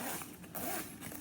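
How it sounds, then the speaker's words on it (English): Someone opens the zipper on a small storage pouch with one quick, close rasping pull and a short follow-up zip, alone without talk. "So there's a zipper here that opens, and then there's the regular zipper that goes around."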